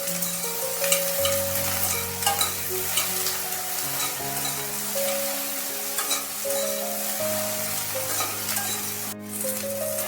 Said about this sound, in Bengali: আমি পুরোপুরি ভাজছি না, হালকা করে একটু ভেজে নিয়েছি নুন হলুদ দিয়ে